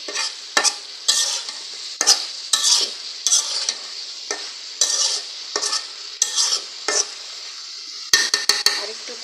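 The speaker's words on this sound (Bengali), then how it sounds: "এখন একটু নেড়ে দিব" Vegetables fry in a pan under repeated spatula strokes, each scrape loud and close over a continuous sizzle, about a dozen strokes in an uneven rhythm with a quick flurry near the end.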